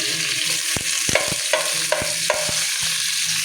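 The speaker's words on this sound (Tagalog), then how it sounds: "Lagyan na natin yung kamatis, sibuyas. Yan, medyo lutuin lang natin ng konti." Chopped tomato and onion sizzle in hot oil in a pan, with a steady close crackle broken by several sharp clacks of a spoon or spatula stirring and scraping.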